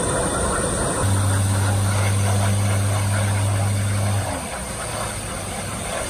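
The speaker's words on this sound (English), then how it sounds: "This fighter jet tried to take off from a grass strip, not a landing strip" A fighter jet taking off from a grass strip rather than a runway, heard as a steady, loud engine roar with a strong low drone that holds for about three seconds and then eases back.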